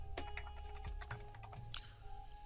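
Quick bursts of keystrokes on a computer keyboard, close and fairly quiet, with a brief pause before a final few taps; no voices.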